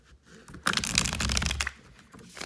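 A deck of tarot cards is shuffled once, a close riffling burst lasting about a second in an otherwise quiet room.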